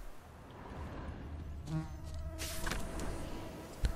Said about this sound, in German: Dieses eklige Fliegengebrumme.